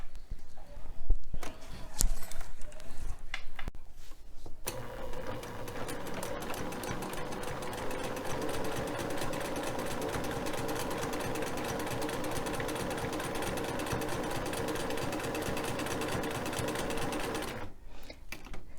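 Sewing machine stitching a seam on a quilt block, a dense rapid chatter up close that runs continuously for most of the stretch, with brief pauses and quieter handling at the start and end.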